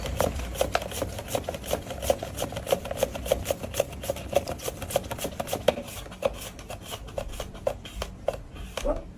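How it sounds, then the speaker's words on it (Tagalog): A cucumber is sliced on a very sharp mandoline in a steady, rapid series of crisp strokes, close and moderately loud, with the rhythm loosening toward the end. "Gumamit tayo ng mandolin panghiwa dito sa cucumber."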